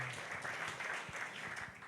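A church congregation applauds during a worship service, a dense, steady clatter of many hands clapping together, fairly distant and even in level.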